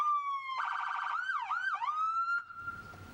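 Police patrol vehicle siren cycling through several modes: a steady wail, a fast yelp and warbling sweeps, loud and close, then dropping into a low rumbling buzzer tone at the end.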